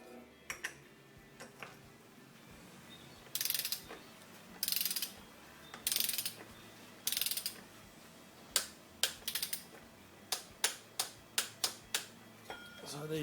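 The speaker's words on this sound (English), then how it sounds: "so I'll get the torque wrench." A torque wrench ratchets on the oil filter cap of a Mercedes W204 C-Class, giving bursts of close metallic ratcheting clicks followed by a quickening series of sharp single ticks over a low background hum.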